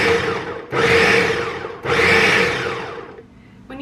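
A blender standing in for a food processor pulses apple pie ingredients in three loud whirring bursts, each rising and easing off, separated by brief gaps, with no talking.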